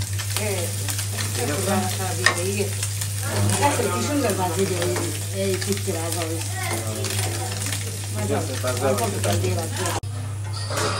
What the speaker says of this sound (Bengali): কত সুন্দর করে মুড়ি মাছগুলা ভাজা হয়েছে